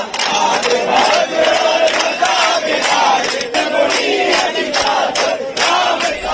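A large crowd outside Christ Senior Secondary School in Guna, Madhya Pradesh, chants slogans and sings bhajans in loud, close, rhythmic unison, with repeated shouted bursts over a dense wall of voices.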